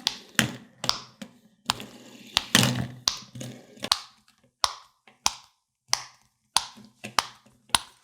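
Pop it fidget toy bubbles being pressed and popped, about a dozen sharp, close snapping clicks in an irregular sequence, some in quick pairs, with brief quiet gaps and soft handling noise between.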